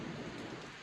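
Steady heavy rain with a low thunder rumble during a hurricane, a dense continuous roar close by with no voices.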